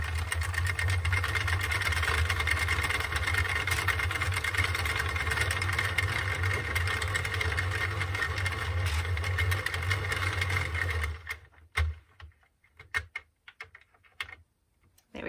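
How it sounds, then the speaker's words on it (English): A circular knitting machine cranked to cast off gives a dense, steady mechanical clatter with a rapid ticking rhythm, loud and close. It stops abruptly near the end, leaving a few scattered clicks. "just cut the yarn and then continue to crank until the work just falls off of your project"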